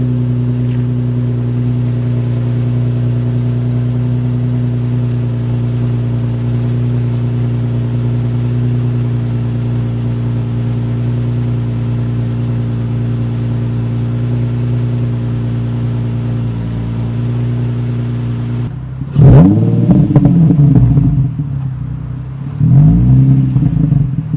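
A Nissan 350Z with its muffler deleted idles with a loud, steady, deep drone, then rises into two sharp throttle revs near the end.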